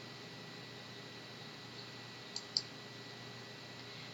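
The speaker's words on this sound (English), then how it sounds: "Select one location by clicking with your mouse and a second location by clicking with your mouse again" A computer mouse gives two quick faint clicks close together amid a quiet steady hiss.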